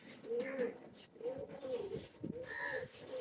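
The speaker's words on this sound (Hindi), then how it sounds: "ये कबूतरी बड़ी देखने वाली है" A teddy pigeon, a female bird, coos in repeated soft rolling phrases, close and clear, with a few chirps in the background.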